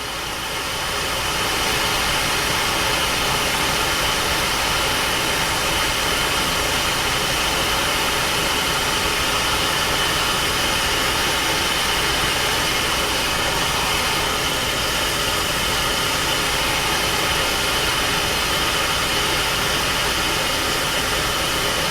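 A torch roars steadily and loudly while heating a small metal corner during a drill gearbox build, a continuous hiss that holds for the whole stretch with no talking.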